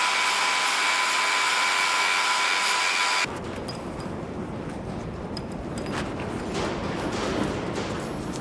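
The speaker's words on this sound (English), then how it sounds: "I just need to grind them off" A power grinder grinds off the firebox stays on a traction engine, first with a high, steady whine, then shifting abruptly to a rougher, gritty grinding as the disc bites into the metal, loud and sustained throughout.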